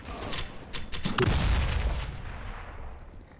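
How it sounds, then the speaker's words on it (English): Grenade blast in CS:GO, a few quick sharp shots followed by a heavy booming explosion with a low rumbling tail that slowly fades, fairly close and loud. "Oh, Grenade! Ah. Grenade!"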